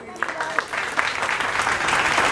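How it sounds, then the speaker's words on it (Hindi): Applause for new members at an RCM business inauguration in Bishanpura, Jind, a crowd clapping steadily and building in density over a couple of seconds, fairly loud, with some voices mixed in. "जोरदार तालियां इन सभी नए साथियों के लिए।"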